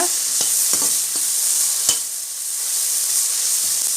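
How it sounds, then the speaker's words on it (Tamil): Tomatoes sautéing in a pan for red spinach and moong dal koottu give a loud, steady close sizzle with a few spatula scrapes and pops early on, no voices. "இப்போ தக்காளி நல்லா பதங்க விட்டுடலாம்"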